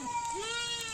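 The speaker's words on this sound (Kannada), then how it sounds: "ಇನ್ನೇನು ಕುರಿ ಎಲ್ಲ ಬಂದಿದ್ದಾವೆ" One fairly faint, wavering sheep bleat rises and holds as the flock comes in, with soft background noise around it.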